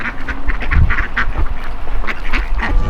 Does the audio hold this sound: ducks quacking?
yes